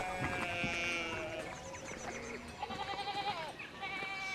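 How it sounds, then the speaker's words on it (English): Sheep in the Pentiment video game bleat several times, with overlapping calls against a soft background of game ambience and music, and no talking. "There's bloody sheep everywhere."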